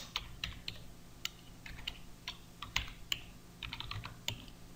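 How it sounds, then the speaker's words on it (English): Typing code on a computer keyboard while writing a VBA subroutine in Excel 2013, with irregular, close, crisp key clicks in quick bursts and short pauses, no talking. "click inside the code window of the module, and then type this simple"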